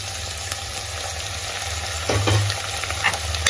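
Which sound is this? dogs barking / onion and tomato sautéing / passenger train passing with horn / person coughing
onion and tomato sautéing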